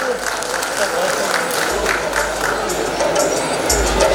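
Audience applause at a folk art festival award ceremony in Brahmapur, a steady wash of clapping from a crowd that runs evenly throughout, with murmuring voices mixed in.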